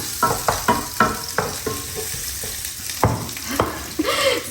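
Onions sizzle in hot oil in a pan for Sri Lankan kottu, with a steady frying hiss broken by sharp scrapes and clatters of stirring, loud and close throughout.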